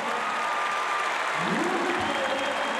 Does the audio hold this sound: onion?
no